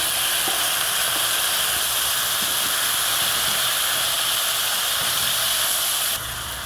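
Pork and onion sizzling in a pan for pinakbet, a loud, dense, continuous hiss that holds steady throughout and eases slightly at the very end.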